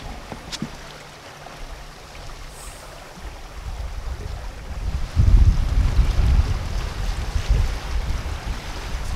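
A Farr 7500 trailer yacht sails on Lake Macquarie in a nor'easter, with soft wind buffeting and water rushing along the hull that grows louder and splashier near the end.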